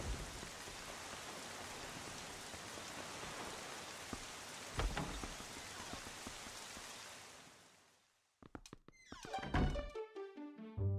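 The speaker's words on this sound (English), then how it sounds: "the sound effect of the rain and the thunder in the game" Heavy rain pours steadily in a Zelda game, with a dull thunder thump near the middle; the downpour then fades out, followed by a sequence of bright tonal game chimes.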